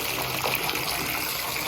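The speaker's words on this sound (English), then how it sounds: "Now we are going to get the water running and get some nice water in there" Tap water runs steadily into a tub being filled to wash a raw wool fleece, a continuous close gushing hiss with no talk over it.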